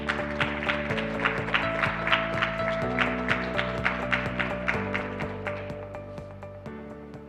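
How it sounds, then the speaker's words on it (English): An audience at an international forum applauds as a chairperson comes to the stage, steady moderate clapping heard under sustained music, slowly fading toward the end. "Everyone, give a warm round of applause to Mr."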